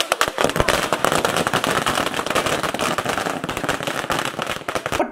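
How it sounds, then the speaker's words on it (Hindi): Dense, continuous crackling of firecrackers bursting in rapid overlapping pops, loud and close, filling the whole stretch, set off in celebration. "खड़े होके पटाखे फोड़ रहे, चीयरिंग कर रहे"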